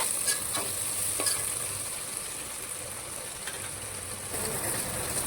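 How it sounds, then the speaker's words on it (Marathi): Onion frying in hot oil after garlic, a steady loud sizzle with repeated stirring scrapes of a spoon across the pan throughout. "कांदा आपण चांगला तळून घेऊया."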